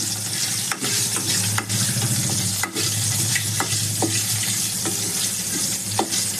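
Dried red chilies, asafoetida and curry leaves sizzle loudly in hot oil for a rasam tempering, a steady close crackle with periodic clinks and scrapes of a stirring spoon against the pan.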